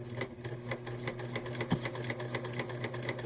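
A Huskylock 1003LCD serger sewing a tri-needle coverstitch along a folded fabric hem: a steady, fast mechanical chatter of needle strokes running continuously at close range, with no talking.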